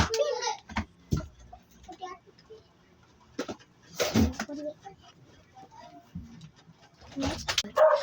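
Pigeons coo in short bursts scattered through the clip, mixed with bird calls and a voice talking nearby.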